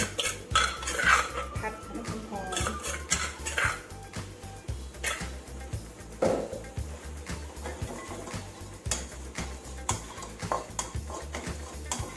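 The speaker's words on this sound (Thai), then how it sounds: "เอาพริกแกงที่เข้าโขกแล้วนี่ค่ะ เอามาผัดน้ำหอมก่อน" Pounded Thai curry paste being stir-fried in a pan for a glass-noodle chicken curry: a metal utensil scrapes and clinks repeatedly against the pan in an uneven rhythm, up close, with a faint low hum behind.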